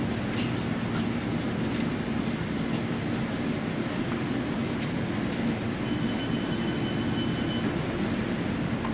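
A London Underground District Line train runs steadily, its constant deep rumble and rattling carriage noise filling the cabin with a faint high whine joining near the end.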